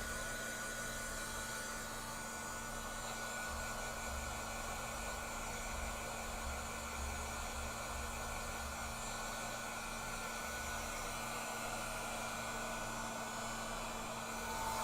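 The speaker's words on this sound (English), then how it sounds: "let's get our heat tool ready." A heat tool blows hot air in a continuous, even whoosh that stays steady and moderately loud for the whole stretch, with no talking.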